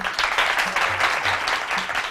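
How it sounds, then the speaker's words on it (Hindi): A studio audience at a weekend TV talk show claps together in a short, lively burst of applause lasting about two seconds. "तालियां बजा दो अपने लिए।"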